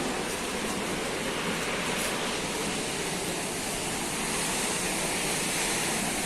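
A waterfall on an evening nature hike roars as a steady, dense broadband rush, continuous and loud throughout with no talk.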